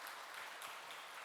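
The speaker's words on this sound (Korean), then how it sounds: "우리 박수로 우리 따뜻한 위로를 전하겠습니다" A church congregation at a Sunday service claps warmly to comfort a family returning from a funeral. The applause is soft and steady, a continuous wash of many hands heard at some distance, with no voices over it.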